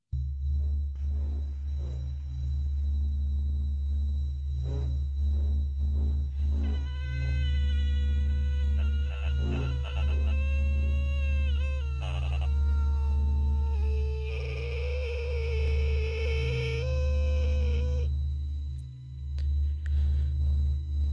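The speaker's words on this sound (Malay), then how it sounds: "saya dengar bunyi macam ada sonar effect gitu, SONAR, sonar effect" Eerie, wavering electronic pings and tones rise over a steady low hum on a telephone line at night, like sonar on a noisy line, with a thin whine in the background.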